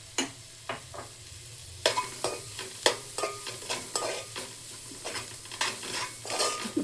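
Salt, chilli powder and pepper being stirred into egg fried noodles in a pan: a low sizzle under a run of close, rhythmic scrapes and clinks of a spoon against the metal pan.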